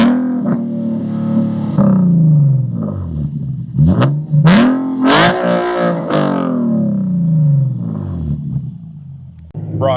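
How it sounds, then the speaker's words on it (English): A Nissan 370Z fitted with equal-length headers and a valve exhaust revs hard several times in quick succession. Each sharp rise rasps and crackles, then falls back to a rumbling idle, loud and close throughout. "Do a couple revs."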